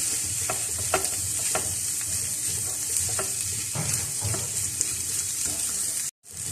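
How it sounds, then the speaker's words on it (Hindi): Potato stuffing for layered aloo parathas frying in a pan, with a steady sizzle and repeated light spatula taps and scrapes at an even pace, close up, no voices, and a brief cut to silence near the end. "तो बस 1-2 मिनट इसको फ्राई करें आलूओं को"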